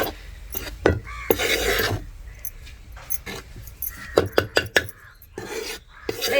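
Bajra (pearl millet) flour being roasted in a little oil in a pan, heard as scraping and rubbing of a utensil against the pan with irregular clinks and taps, close and fairly loud, no talking.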